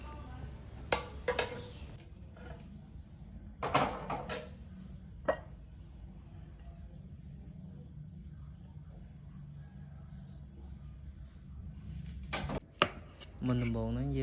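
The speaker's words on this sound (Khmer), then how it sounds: "យើងមកមើលពីការហាន់សាច់របស់យើងនៅក្នុងការធ្វើឡុកឡាក់សាច់គោ" Knife slicing raw beef thinly on a cutting board for Cambodian beef lok lak, a few sharp chopping taps and cuts close by, spaced out over a low steady background hum.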